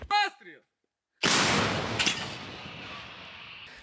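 Someone speaks briefly, then after a pause a single heavy artillery blast from Ukrainian paratroopers in Kursk region booms out close by and rumbles away as it fades.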